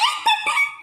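A dog gives a couple of short, high yips or barks in quick succession, close and fairly loud, with a whiny, tonal edge.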